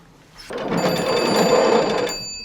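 Telephone bell ringing in a single burst of rapid metallic trilling, close and fairly loud, lasting about a second and a half before cutting off, with no talk over it.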